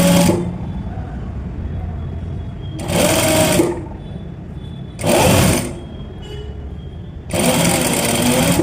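A sewing machine stitches a tuck in fabric, running in four short bursts of close, loud mechanical whirring separated by brief pauses with a low background hum.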